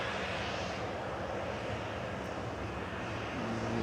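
A Kuwait Airways airliner landing at Manchester Airport, its steady broadband engine roar sustained throughout without a clear rise or fade, heard from the airfield's edge with no talk.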